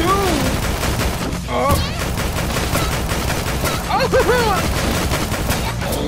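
Rapid bursts of gunfire from the zombie video game Dead or School, crackling continuously under a dense layer of game music and effects, with an excited voice calling out briefly over the shooting.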